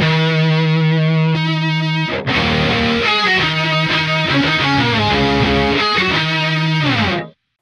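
Electric guitar through a pedalboard with distortion and other effects but no Electro-Harmonix Q-Tron: a loud, fuzzy sustained riff with shifting chords and thick harmonics, ending abruptly.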